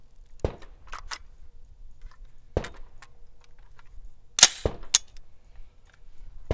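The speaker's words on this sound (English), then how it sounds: "Thirteen dry fires." Dry fire on an AR-15 rifle with a 22mods4all upper and an Anderson lower gives sharp, isolated metallic clicks, a handful spaced irregularly across otherwise quiet moments, close and crisp.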